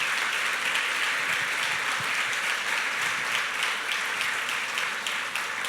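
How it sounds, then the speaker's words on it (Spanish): Church congregation applauding during a Spanish-language service, a steady, dense patter of many hands clapping at moderate distance with no speech over it. "Denle un aplauso al Señor."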